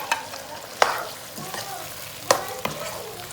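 A spoon stirs white sauce pasta in a pan over low heat, giving scraping and clinking strokes with a faint sizzle underneath, close by and without speech.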